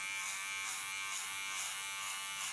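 An electric hair clipper trims a hairline, running as a steady close buzz that holds without a break and without any voice over it.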